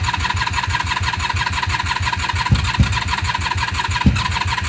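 A Honda Magna 750 VF750C motorcycle engine cranks with a steady, rapid rhythmic chugging from the starter, loud and close, with a few sharper pops as it catches, with no speech.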